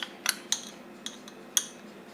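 A metal spoon clinks against a bowl or dish while spreading marinade over potatoes, giving about half a dozen sharp, bright taps spaced irregularly, close and clear over quiet background.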